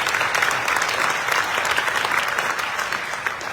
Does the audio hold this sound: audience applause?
yes